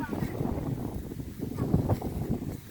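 Wind blows outdoors on an island on a sunless day during a shellfish-gathering trip, a low, steady, rumbling gust buffeting the microphone throughout, with faint murmurs of voices mixed in.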